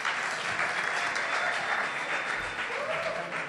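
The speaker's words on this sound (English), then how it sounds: "the clapping is absolutely fantastic" An audience at a live concert in Barcelona claps steadily and loudly throughout, a dense continuous patter of many hands with no break.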